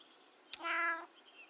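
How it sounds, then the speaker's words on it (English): A single doubtful-sounding cat meow from the video game Kentucky Route Zero, a short rising-falling cry preceded by a faint click, heard alone over quiet background hiss. "Doubtful meow."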